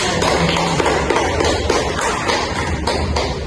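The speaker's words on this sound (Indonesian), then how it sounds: "Oke, berikan aplaus." A small group of students in a classroom guidance session claps in dense, close, steady applause lasting a few seconds.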